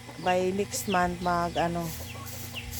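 Native Bisaya chickens cluck in a run of loud, close, harmonic calls, with someone speaking briefly over them.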